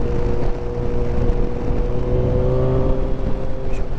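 Kawasaki Ninja 1000 SX motorcycle under way, a steady droning engine with a continuous whirring tone and broadband wind rush, constant and loud throughout without voices.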